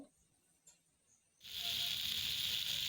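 Chopped tomato hits a hot pan with potato and onion, setting off a sudden loud, steady sizzle that holds close and unbroken after a quiet start.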